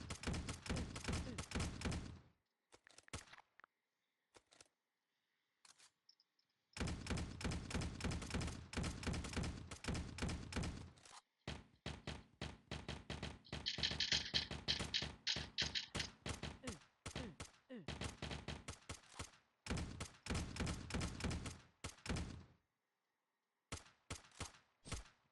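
Repeated gunfire bursts from a shield gun in the online game Graal Online Era, loud rapid volleys broken by short gaps and scattered single shots, with a brief bright shimmering effect partway through.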